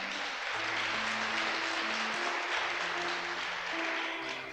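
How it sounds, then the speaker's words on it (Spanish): Church congregation applauding during a Spanish-language sermon, a sustained even roar of clapping with organ or keyboard tones held beneath it. "Un aplauso para la iglesia local."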